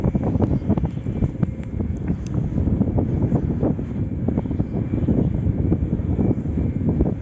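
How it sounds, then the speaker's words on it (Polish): A wind turbine's gearbox transmits power to the generator, giving a steady, loud, low rumbling hum with a constant rough texture and no pauses. "Słychać tylko dźwięk samej przekładni, która przenosi moc na generator."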